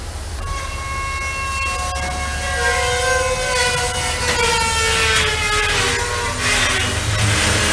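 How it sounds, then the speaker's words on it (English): Shrill, sustained metallic screeching of freight train brake shoes in Kentucky, several overlapping tones sliding in pitch over a steady low rumble of rolling railcars. "The other train you hear the brake shoes screaming"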